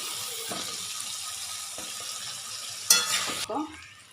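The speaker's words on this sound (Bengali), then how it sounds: "আলুগুলো কিন্তু ভেজে নিই" Potatoes sizzle gently in a pan, a steady close hiss, with a brief louder burst of crackling and scraping near the end.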